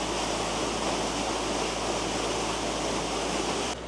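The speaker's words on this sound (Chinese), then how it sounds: "这个水流声特别治愈啊！" Water flows in a steady, dense rush at Huanglong Pool on Lushan, a constant close wash of noise without pause that softens slightly at the very end.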